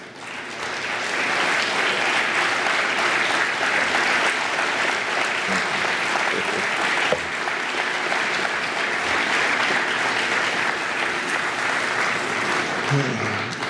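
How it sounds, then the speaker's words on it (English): Sustained, steady applause from a seated crowd at a sports hall of fame induction ceremony, honouring players and coaches and filling the room evenly for over ten seconds. "have a little round of applause for you guys"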